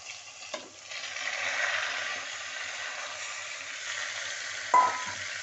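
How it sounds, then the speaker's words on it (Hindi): Pumpkin frying with spices in a pan on high heat gives a steady, close sizzle. A brief stir clatters near the start, and another scrape comes near the end. "और इसको तेज आंच पे फ्राई करना है"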